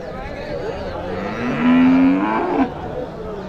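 HF dairy cows moo at the Vaniyambadi cattle market, one long, loud, low lowing call rising out of a steady murmur of crowd and market noise.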